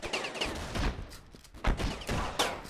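Rapid gunfire in the battle game Ravenfield, a string of close, punchy shots and bursts arriving in uneven clusters with brief gaps, fairly loud and thick with echo.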